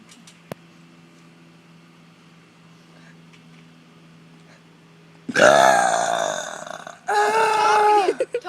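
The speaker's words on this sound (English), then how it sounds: "Do the biggest burp you ever can do in your life." After a stretch of quiet room hum, a person lets out two big deliberate burps in a row, the first long and loud, the second following shortly after, both close and forceful.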